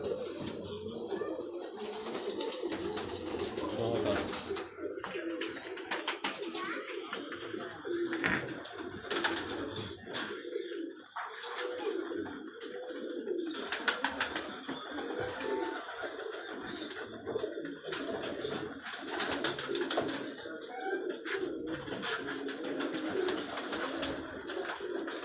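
Pigeons cooing on a rooftop in Punjab, with repeated throaty coos rolling on continuously from several birds nearby, a steady flock murmur, and faint voices in the background.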